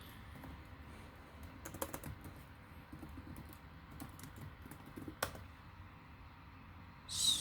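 Computer keyboard keys tapped during a potentiometer piano project demo, a few scattered faint clicks over a steady low hum, with one sharper tap near the end.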